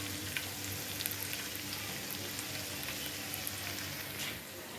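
Okra frying in a pan in a home kitchen gives a steady, fairly quiet sizzle with faint scattered crackles and pops, no voices.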